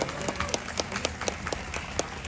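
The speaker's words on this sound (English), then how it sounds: "A round of applause for him." Audience applause at a celebrity event in Pakistan, with distinct claps popping out of a steady wash of clapping, fairly close and continuous throughout.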